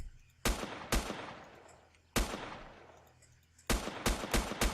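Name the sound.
gunshots from video game Next Day Survival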